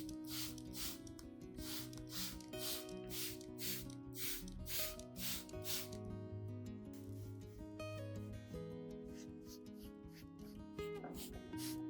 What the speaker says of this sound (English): When applying, be sure to spray both the upper and lower surfaces of the leaves